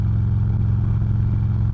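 A Harley-Davidson Road King CVO motorcycle ridden at steady speed, its deep, loud, rumbling engine drone continuing close and unbroken with no voice present.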